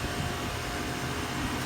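Two Goodman heat pumps running in cool mode beside a house in Florida, with scroll compressors and fan motors producing a steady broadband whoosh and hum, close and continuous without variation.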